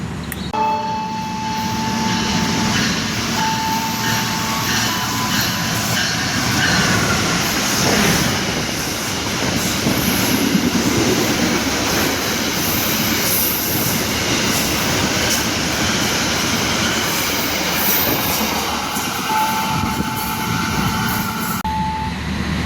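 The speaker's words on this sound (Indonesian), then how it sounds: "kita tunggu aja kereta api Purwojaya melintas langsung di stasiun Jatibarang" The Purwojaya passenger train rumbles steadily through Jatibarang station without stopping, wheels clattering and squealing on the rails, loud and continuous with a high ringing tone at the start and end.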